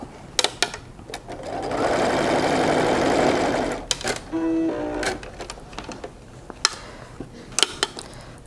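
A sewing machine stitches a patchwork block in two runs: a long, steady, close-up whirr, then a shorter burst, with clicks and handling noises between them.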